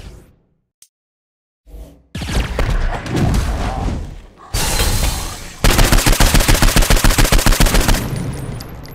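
Saints Row IV video-game gunfire: after a short quiet gap, loud bursts of shooting build into a fast rapid-fire volley of evenly spaced shots with booming thuds and whooshes, no talking.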